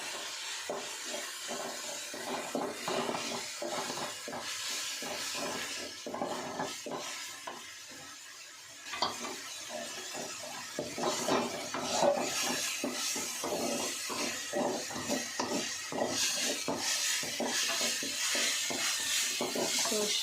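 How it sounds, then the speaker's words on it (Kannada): Ginger garlic paste frying in a pan, a steady rasping sizzle with scraping and stirring strokes, close and fairly loud throughout. "ಫ್ರೈ ಮಾಡ್ಕೊಳ್ಳೋಣ."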